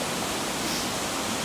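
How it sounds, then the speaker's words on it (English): Steady, loud broadband roar of a waterfall on Plympton Creek, a continuous rushing wash of water with no breaks or voices. "so we did find one of the waterfalls."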